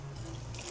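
Tap water running into a kitchen sink as something is rinsed, a brief close steady splashing flow.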